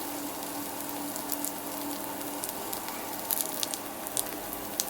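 Cauliflower kebabs shallow frying in oil in a home kitchen, a steady close crackling sizzle with scattered sharper pops and spits, no voices.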